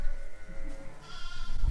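A mule sheep bleats at lambing time on a farm, one drawn-out, wavering call up close that swells louder toward the end, with no talking.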